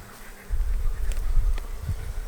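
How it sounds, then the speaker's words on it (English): Honey bees buzz around a hive, a close, low, continuous hum that grows louder and fuller after a moment. "last time I was here there weren't many bees up here"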